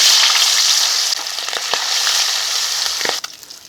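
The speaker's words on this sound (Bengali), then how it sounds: "তেলে এখন মাছগুলো ভেজে নিচ্ছি" Silver carp pieces fry in hot mustard oil with a loud, dense, close sizzling hiss and occasional sharper crackles. The sizzle eases slightly near the end.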